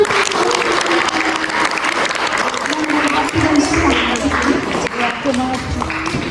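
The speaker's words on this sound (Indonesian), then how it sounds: "Tepuk tangan dulu." An audience of schoolchildren and parents on a class trip in Malang claps in a sustained, close burst of applause, with scattered voices mixed into the clapping.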